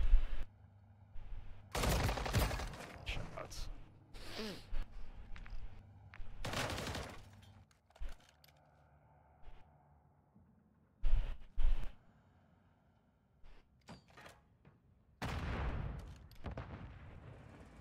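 Gunfire from the video game Call of Duty MW3 in a 1v1 match on the Highrise map, heard as loud bursts of rapid automatic shots and single cracks separated by quieter gaps, close and punchy.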